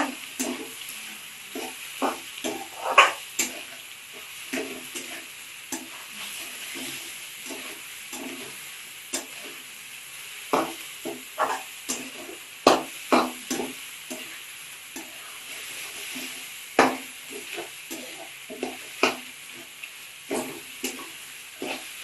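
Capsicum stir-frying in a hot pan, a steady soft sizzle broken by frequent stirring scrapes and clinks of the spatula, close and moderately quiet with no talking.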